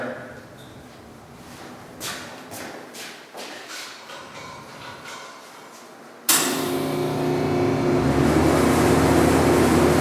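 Metal parts of a bottle lift are tapped and set in place with scattered knocks, then a loud steady harsh buzz of tack welding starts and carries on to the end.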